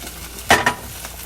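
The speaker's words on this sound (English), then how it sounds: "Now I'm going to take my garlic and put it right in. Get that stirred." Two quick metallic scrapes of a spoon against a soup pot come as garlic is stirred into shish barak, over a faint steady background simmer.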